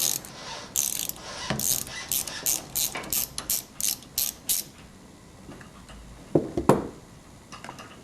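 A hand ratchet clicks in a steady run of short bursts while loosening a rear shock bolt on a 2005 Scion xB, followed by a few metallic clanks and taps; no voices.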